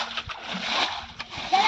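Water is bailed out of a small village pond during fishing, each scoop landing as a loud, close splash and splatter in quick succession while voices talk nearby.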